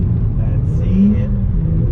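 Ford Falcon engine revving under throttle while drifting sideways, a loud, close, rumbling note that rises and swells in the middle, with voices talking over it.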